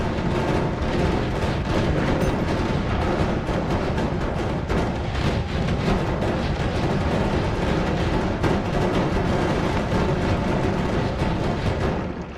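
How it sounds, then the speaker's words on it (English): Explosions from wand spells in the game Noita, a dense, unbroken barrage of loud booms and crackling blasts that continues steadily without pause. "There's a lot of explosions going on."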